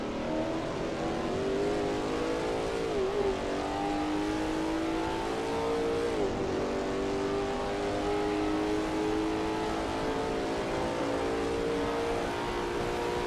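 A Lola T70 MkII Spyder race car in a racing game circuits Road America with a steady, loud engine drone that rises through gears, with brief dips at shifts around the sweeping turns.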